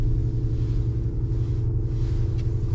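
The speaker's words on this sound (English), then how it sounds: "Got a GT500 that just started up over there" A Ford Mustang GT500's deep, steady engine idle rumbles throughout, low and throaty with a slight pulsing texture, fairly close by.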